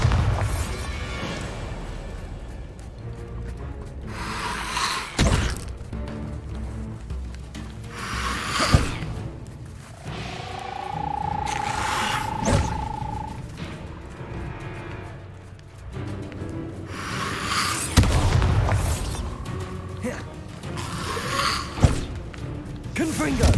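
The Bombarda blasting spell goes off in Hogwarts Legacy as several sharp booming explosions spread across a busy stretch of spellcasting effects and rumbling, with a person talking in between.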